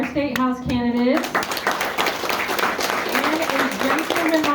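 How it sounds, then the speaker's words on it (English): A crowd at a local Democratic candidate meet-and-greet applauds State House candidates. Steady clapping begins after a brief spoken line and continues with voices mixed in. "All right, a final round of applause for our State House candidates."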